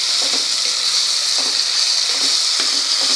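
Four finely chopped onions fry in hot oil over a high flame for eggplant bharit, giving a loud, steady hiss with faint stirring taps beneath it. No one speaks.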